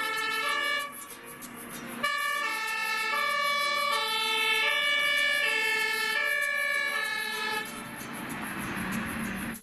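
A toy fire truck's loud electronic siren wails steadily for several seconds, with no voices.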